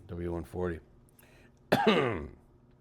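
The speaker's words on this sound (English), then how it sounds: "Sorry, I have this lingering cough." A single harsh cough bursts out near and loud, followed by a short ragged throat-clearing tail, after two brief voiced sounds.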